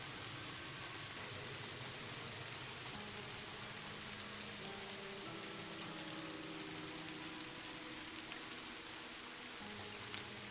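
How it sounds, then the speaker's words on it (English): Steady rain falls at night as a soft, even hiss with faint patter on surfaces, continuous and fairly quiet throughout, with no voices. "When it rains, the sound is so beautiful."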